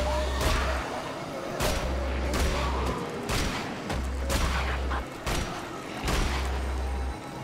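Gunfire in the shooter game Wolfenstein: The Old Blood: repeated loud bursts of weapon fire come in regular waves, each with a heavy low thump, over a constant din of game noise and faint talk.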